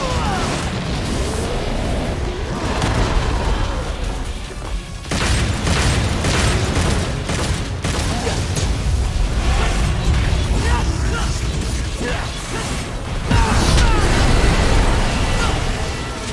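Dense, continuous booms and blasts in Devil May Cry 5, loud and layered with mechanical clatter, sustained throughout with a heavier burst near the end.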